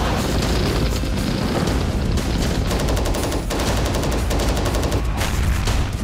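War footage from Ukraine carries rapid bursts of gunfire and booming explosions, loud and dense, with rattling volleys and heavy blasts piling over one another throughout.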